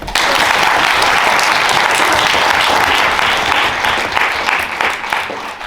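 A debate audience applauds the speakers, a loud, dense, sustained roar of clapping that continues throughout with only slight easing near the end.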